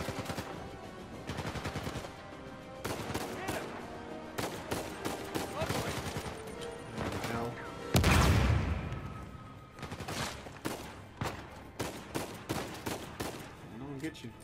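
Sustained gunfire in the video game Uncharted 4, with repeated rapid bursts and single shots, one heavy blast midway, and short pauses between volleys.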